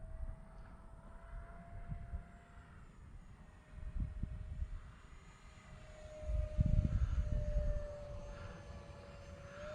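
A 4S electric ducted-fan Dolphin jet trainer, a radio-controlled model, flies on a windy day with a steady, slightly wavering turbine-like whine over gusty wind rumble that swells louder as it passes nearer around six to eight seconds.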